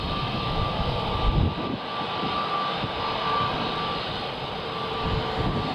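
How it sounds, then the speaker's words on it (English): A jet airliner, a former Kuwait Airways aircraft, rumbles steadily at Manchester Airport, a loud continuous engine roar with no speech. "So this used to be a Kuwait Airlines, I believe, aircraft."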